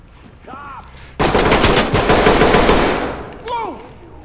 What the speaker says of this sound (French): j'ai tiré dans le dos sans faire exprès